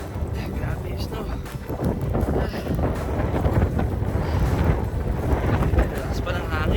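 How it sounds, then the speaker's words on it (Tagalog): Strong wind roars steadily through a snowstorm outdoors, buffeting the microphone with continuous broadband noise while people talk over it. "Lakas pa ng hangin."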